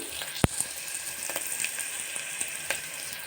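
Onions frying in a pan for a drumstick and tomato curry, a steady close sizzle with a few sharp crackles and light stirring scrapes throughout.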